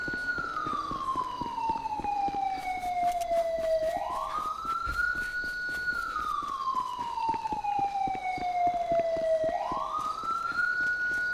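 A police car siren in Grand Theft Auto V wails in long, smooth rising and falling sweeps, loud and close and running steadily without pause, with faint game background noise underneath.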